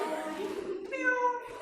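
Human voices imitating a cat's meow in a classroom warm-up, one short drawn-out meow call lasting about a second, moderately loud.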